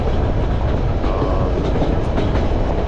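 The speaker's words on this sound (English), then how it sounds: "we're riding the White Pass Yukon train" White Pass & Yukon scenic railway train near Skagway, Alaska, rolling steadily on its rails with continuous loud rumble and rhythmic clickety-clack of the wheels, heard from aboard a passenger car.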